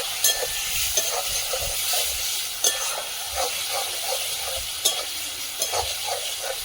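Masala spices fry in a pan while fish is cooked in a meat-style curry, giving a steady close sizzle with scattered stirring scrapes and clicks, no talking.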